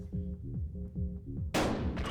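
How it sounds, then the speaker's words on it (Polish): A shotgun blast from the video game Buckshot Roulette erupts as one loud, sharp boom with a short decaying tail, following a stretch of repeating low electronic game tones. "Teraz powinien być normalny strzał,"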